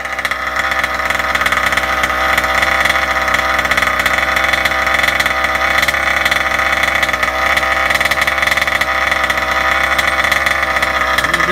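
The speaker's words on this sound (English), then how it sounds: "Breaking the engine in" A Kraken Vekta.5 RC truck's small petrol engine runs during break-in, a loud, steady buzzing drone that holds a constant pitch for over ten seconds, close up and without voices.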